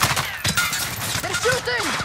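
Video game gunfire crackles in quick bursts over a busy battle mix, loud and close, with voices calling out nearby.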